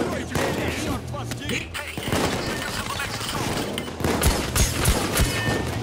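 Sustained bursts of gunfire in the video game Payday 2, dense and loud, with a player talking over the shots.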